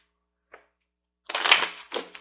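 A tarot card is laid down with a brief soft tap, followed by a closer burst of papery shuffling and sliding card sounds in a quiet room.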